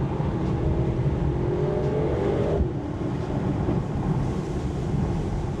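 A Mercedes-AMG GT 63 pulling away in track mode, heard from inside: the engine note climbs steadily, then eases off midway, with constant road and wind rumble beneath.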